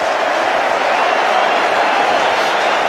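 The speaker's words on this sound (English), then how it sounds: "And the crowd are rising to this too." Cricket crowd at a New Zealand versus Australia T20 match during the final over, a loud, sustained roar of many voices, steady and continuous throughout, with no clear single speaker.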